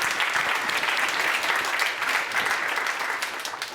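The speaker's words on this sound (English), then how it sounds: "let's take a few seconds to basically give a round of applause to all the mentors in the community" A conference audience gives a round of applause for community mentors at a keynote session, a sustained, even wash of many hands clapping that fades slightly toward the end.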